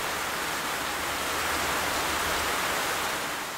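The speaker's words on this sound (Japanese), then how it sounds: "すごい雨。" Heavy rain pours in the intro of the 1998 PlayStation game Angelique Duet: a loud, dense, unbroken hiss of falling water that holds steady throughout, with no voices.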